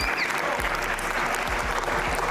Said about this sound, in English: who clapped for that?